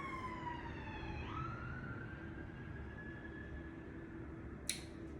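Police siren wailing outdoors at a distance, its pitch sliding and shifting in a steady sweep, faint but clear behind room quiet, with a brief sharp click near the end.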